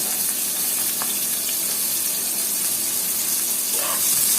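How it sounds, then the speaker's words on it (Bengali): Onions and dried red chilies frying in hot oil in a pan, a steady broadband sizzle with faint watery crackle, close and continuous without pause. "দিয়ে এটা একটু ব্যবস্থা করার জন্য তেলের মধ্যে ভাজতে হবে"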